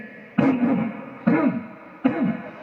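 Someone clears their throat three times in a row, short harsh rasping bursts evenly spaced, close and fairly loud.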